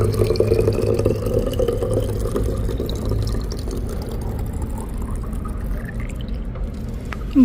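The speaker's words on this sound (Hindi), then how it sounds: "यहाँ से मैं पानी फिल करूँगी।" Water runs steadily from a water cooler into a bottle in a quiet college building, a continuous close pouring and gurgling that holds for several seconds before a brief clunk at the end.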